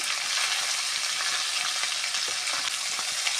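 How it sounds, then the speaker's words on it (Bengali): Soybean chunks and peas sautéing with turmeric and salt in a hot pan give a loud, continuous bright sizzle, steady and close, with no voices. "এটা ভালো করে কষিয়ে নিতে হবে।"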